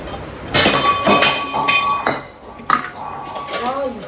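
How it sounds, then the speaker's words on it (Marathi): A pile of kitchen dishes and metal pots tumbles down, producing a loud, close burst of clanging and clinking, followed by scattered rattles as pieces settle. "माझी भांडी पडली सर्व"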